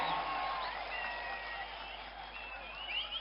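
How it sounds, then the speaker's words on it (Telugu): A crowd at a political rally in Kuppam for Chief Minister Chandrababu Naidu applauds in a dense, continuous wash of clapping, with scattered cheers and whistles rising over it. "గట్టిగా చప్పట్లు కొట్టి కూడా చెప్పండి ఆమోదిస్తామని."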